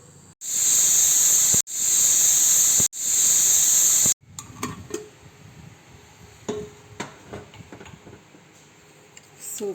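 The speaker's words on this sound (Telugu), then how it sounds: "ఇప్పుడు విజిల్ పెట్టేస్తాం." A pressure cooker cooking crab soup lets out three loud, piercing steam whistles in quick succession, each a few seconds long and cut off abruptly, followed by quieter clattering and knocks.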